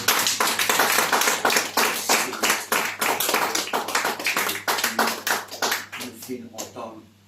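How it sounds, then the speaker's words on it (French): Worshippers at a church service clap hard for the Lord, a dense, fast run of hand claps that fills the room in a steady beat before thinning out and stopping near the end. "Et nous capables d'applaudir le Seigneur bien fort."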